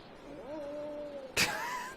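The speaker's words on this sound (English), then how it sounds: "That is not a ferocious howl." A direwolf's howl from ARK: Survival Evolved comes out as a thin, cat-like wavering wail, rising and then holding for about a second, followed by a brief sharp burst and another short cry.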